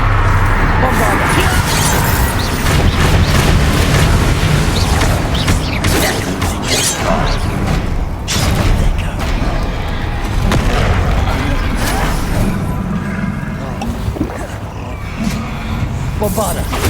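Bombarda spell blasts and combat effects in the video game Hogwarts Legacy: dense, loud booms and mechanical clatter run continuously, with character voices speaking over the fight.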